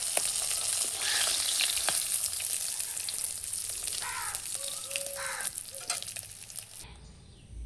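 Pieces of pointed gourd (potol) frying in a pan give a steady, close sizzle with stirring scrapes, occasional louder pops and a few faint bird caws outside, ending abruptly near the close.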